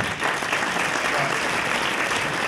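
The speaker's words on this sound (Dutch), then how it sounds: "Geef een applaus." Audience applause at a crowded local politics debate, steady dense clapping filling the room from start to finish before cutting off abruptly.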